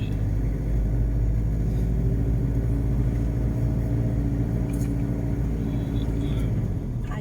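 A car drives along a road in the Thai-Cambodian border area, its engine and tyre rumble forming a steady, continuous drone from start to finish.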